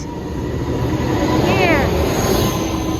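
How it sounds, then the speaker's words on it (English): A passenger train passes at Fullerton Station, a loud, steady rumble of wheels and engine filling the scene, with a brief squeal partway through. "There goes this train that's moonwalking."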